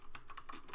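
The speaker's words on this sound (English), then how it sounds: "Don't mind my typing so I can find this out real quick." Typing on a computer keyboard: a quick, uneven run of about eight or nine light key clicks, close by and fairly quiet, with no voices.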